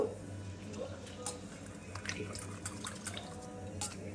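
Vegetables for sambar being washed under running tap water, a steady, moderately close splashing and trickling with small drips and clatters throughout.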